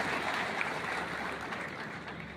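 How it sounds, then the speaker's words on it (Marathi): Sustained applause from an audience at a retirement ceremony for a school headmaster, a steady wash of many hands clapping at moderate distance throughout. "आपण सर्वांनी टाळ्या वाजवून त्यांचं अभिनंदन केलं पाहिजे"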